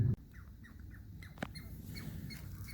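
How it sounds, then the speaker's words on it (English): Faint, high chattering chirps of a chipmunk or squirrel scolding from a tree repeat irregularly in the distance, over soft outdoor background noise in the Cascade foothills. "somewhere up in this tree is a mighty mad chipmunk or squirrel. She was scolding us for coming by her tree."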